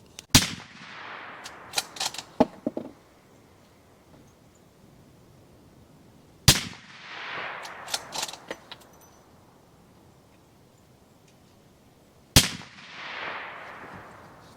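A 400 Legend straight-wall rifle firing Winchester 215 grain Power Point rounds: three loud, sharp shots spaced about six seconds apart, each echoing briefly outdoors, with small clinks after the first.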